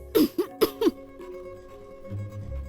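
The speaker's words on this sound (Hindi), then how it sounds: "अगर आप नाराज हैं तो 2 बार खांसिए।" Two short, close coughs from a woman, the second following right after the first, then quiet room tone with a faint low hum.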